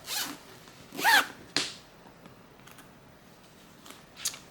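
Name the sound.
zipper being pulled on a handmade bag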